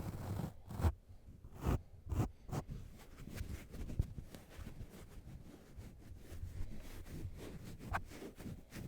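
A plastic bag stuffed with foam mic covers is squeezed and crinkled up close, giving soft, continuous rustling with a few sharper crackles, quiet and intimate with no talking.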